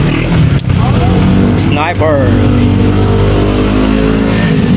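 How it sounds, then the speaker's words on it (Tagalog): Japper Sniper's motorcycle engine runs loud and close, a steady revving drone with a brief pitch sweep, while someone talks over it. "motor ni Idol Japper Sniper"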